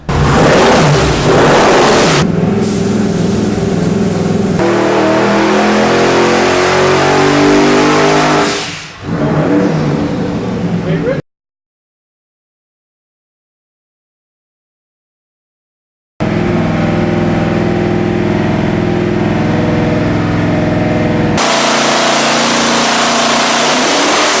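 An all-aluminum 572 cubic inch twin-turbo Chrysler Hemi race engine, loud and close, revs up with a rising whine, drops back, then cuts to a few seconds of silence before another loud burst of engine roar.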